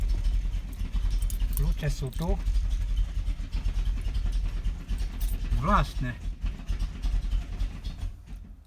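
A Škoda 105L engine keeps running on after the ignition is switched off, a steady low idle rumble that continues throughout, with someone talking over it and keys briefly jangling.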